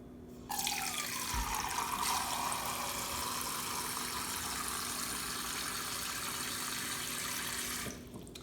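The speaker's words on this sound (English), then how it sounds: "Now we're going to measure 4 cups of water to add to our 1 cup of sugar." Tap water runs steadily into a measuring cup for making homemade hummingbird food, a continuous close hissing splash that starts abruptly and stops near the end, with no talking.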